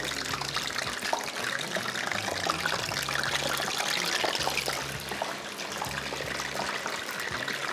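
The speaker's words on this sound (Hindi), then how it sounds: "इसमें हमने पानी डाला है थोड़ा फूड कलर का" Water tinted with food colouring pours steadily into a pan on a kitchen stove while a samosa dish is cooked, a continuous close trickling splash with no talk.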